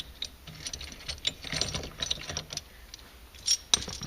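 A socket ratchet clicks in short irregular bursts while tightening a nut on the steering of a 1997–2001 Jeep Cherokee XJ, close and fairly quiet with faint clinks of metal between strokes.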